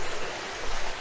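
A small waterfall pours steadily close by in a broad, even rush of water, continuous and moderately loud for a brief moment, with no voices.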